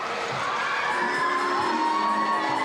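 Futsal fans roar and cheer after the 2009 men's national final won by NSW Thunder, a dense, steady wall of crowd noise with shouts and whoops rising throughout.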